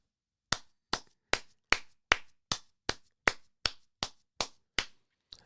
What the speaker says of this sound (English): let's give it a round of applause for our man Trump.